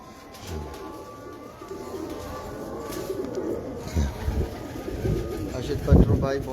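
Domestic pigeons coo in low, soft repeated calls close by, with someone talking over them throughout.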